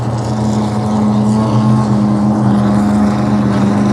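Sprint jet boat racing at the Long Beach Sprint Nationals, a loud, steady engine drone with strong low tones, continuous and close.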